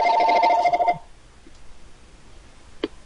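A telephone rings with a loud, electronic trill for about a second and then cuts off, followed by near silence and a single faint click.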